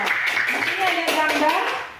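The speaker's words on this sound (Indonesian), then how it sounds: "Tepuk tangan dulu untuk kelompok 2." Short burst of audience clapping for a student group in a classroom presentation, moderately loud and brief, mixed with shuffling and background voices.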